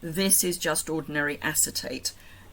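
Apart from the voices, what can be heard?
No distinct noise like a dog, phone or traffic.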